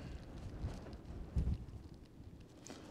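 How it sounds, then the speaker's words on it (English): Bitter wind on an exposed Brecon Beacons escarpment buffets the microphone in low, uneven rumbling gusts, with one stronger blast midway. "It's a bitter wind."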